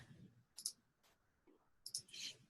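A computer mouse clicks a few times, quiet and close, in two small bursts with short gaps between.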